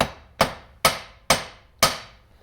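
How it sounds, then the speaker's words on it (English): A small hammer flattens copper tubing crimped over a wire splice with four sharp metallic taps, evenly spaced about half a second apart, close and crisp, each decaying quickly, alone without talk. "A little hammer works just fine."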